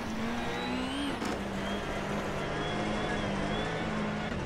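Engine of a Hyundai i20 WRC rally car in the Richard Burns Rally video game, a loud, steady droning buzz held near one pitch with slight rises and dips, continuous throughout the short stretch.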